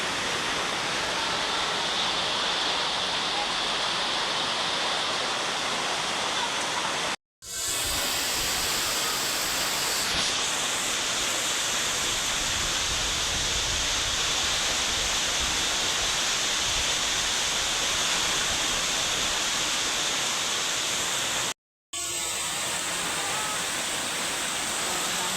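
Heavy rain pours during Tropical Depression Verbena in Uson, Masbate, a dense, steady hiss like a waterfall that goes on without a break, cut by two short gaps.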